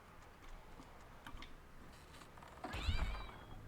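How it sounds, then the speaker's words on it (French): Cat meows in The Simpsons Hit & Run video game as cats are launched from a catapult, with faint scattered game sounds early on and a brief yowling meow near the end over low background noise. "Voilà, on envoie des chats à la catapulte."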